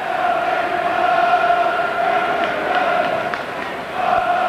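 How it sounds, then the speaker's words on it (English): Crowd of fans roaring and cheering steadily in a stadium during a 2003 Wrexham v Newport County football match, a sustained loud wash of voices with brief swells. "Something for the fans to cheer about"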